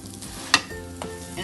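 Roti frying in oil on a flat pan just after being flipped, a soft steady sizzle running throughout with one brief sharp clatter near the start.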